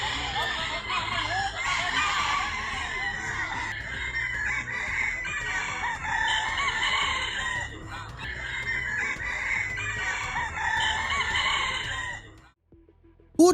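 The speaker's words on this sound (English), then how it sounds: "rooster owners compete to see whose bird can crow the longest" Roosters at a crowing competition, where owners vie for the longest crow, let out long drawn-out crows that overlap and carry on for most of the stretch, with clucking beneath, before stopping abruptly near the end.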